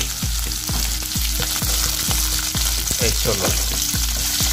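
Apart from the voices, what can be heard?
cooking chickpeas in a pan on the stove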